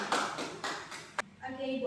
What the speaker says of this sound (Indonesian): ayo kita beri tepuk tangan dulu sebagai apresiasi